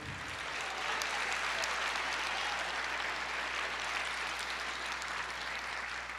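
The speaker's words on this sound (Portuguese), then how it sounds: "Aplauda o Senhor." A church congregation applauds in a dense, sustained wash of clapping that holds steady for several seconds, with a low hum running beneath it.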